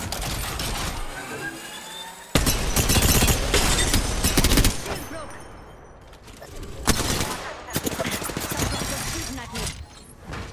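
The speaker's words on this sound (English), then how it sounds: "Might be a gun." Apex Legends gunfire arrives in loud bursts of rapid shots, separated by quieter gaps with mechanical clicks. A player talks between the volleys.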